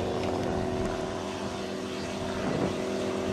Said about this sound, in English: The world's smallest twin engine aircraft.